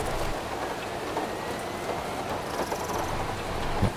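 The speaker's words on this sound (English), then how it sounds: "you can hear the tapping of the rain" Steady light rain in the video game Bus Bound patters continuously on a surface, soft and even throughout, with a faint whine in the background.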